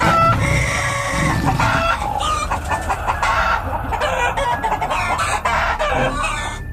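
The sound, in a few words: chickens clucking loudly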